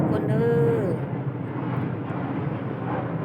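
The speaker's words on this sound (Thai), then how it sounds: "ขึ้นอีกแล้วเครื่องบิน" An airplane takes off close by in Thailand, a broad, steady roar of engine noise filling the whole clip, with people talking over it.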